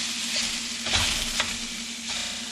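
Sausage cooks in a pan with a steady bright sizzle and a few stirring scrapes, close up, over a faint constant hum, with no voices.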